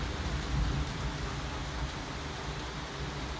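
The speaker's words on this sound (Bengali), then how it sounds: "সকাল সকাল বৃষ্টি দেখছে।" Rain falls in a steady, broadband wash with a low rumble underneath, fairly soft and continuous, with no talking.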